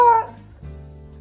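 A dog gives a short, high whimpering whine up close, which quickly fades into a low lingering tone.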